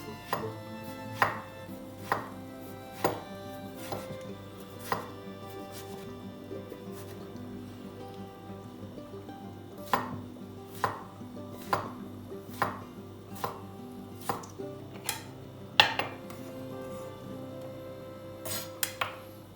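A knife finely chops a tomato in sharp, regular taps against a cutting board, steady at first, then briefly pausing, then resuming quicker, close and moderately loud.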